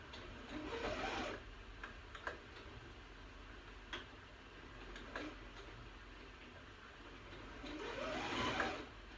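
Sewing machine stitches loose-weave fabric in short, quiet bursts with soft mechanical ticking between them, the loudest runs at the start and end.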